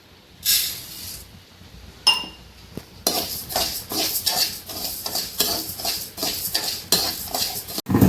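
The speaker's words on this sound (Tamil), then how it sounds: "ஒரு இரநூறு அளவுக்கு பச்சரிசி எடுத்து வச்சுருக்கேன் அதையும் லேசாக வறுத்து எடுத்துக்கலாம்" Raw white rice dry-roasted in a pan, with dry scraping and clinking of a metal spoon against the pan in quick irregular bursts, close up and with no talking.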